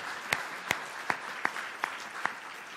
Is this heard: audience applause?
yes